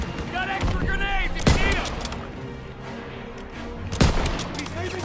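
Gunfire in the Call of Duty WWII campaign crackles in dense bursts with a few heavy, sharp shots standing out, while a voice talks over the battle.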